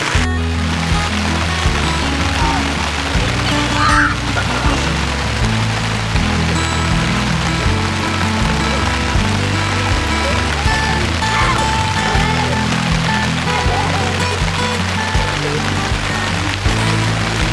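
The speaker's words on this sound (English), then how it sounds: "it's raining harder now than it was earlier" Rain falls heavily on a shelter during a backpacking trip, a steady dense patter that runs throughout, joined by a low, rhythmic background tone that recurs under it.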